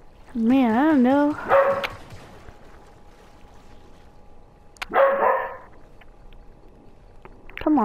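A dog barks near the microphone in short clustered bursts, a loud warbling howl-like bark at first, then another sharp burst after a pause, and a final brief yelp at the end, with quiet background in between.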